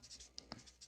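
Pen or chalk writing by hand during a Hindi-medium maths lesson on trigonometry, heard as faint scratchy strokes in short bursts, quiet and close, with no talk.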